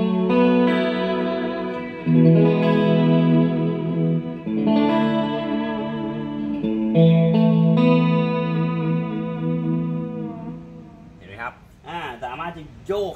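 Clean electric guitar chords from a 2019 Mexican Fender, shimmering with a chorus effect from a Korg AX3000G processor, strummed in phrases, with brief bending notes near the end.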